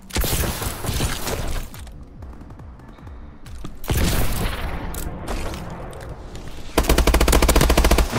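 Dense, loud gunfire in the online shooter game Advanced Warfare, rapid automatic bursts with booming impacts. The bursts come in waves, with a brief quieter stretch, and end in an intense sustained volley.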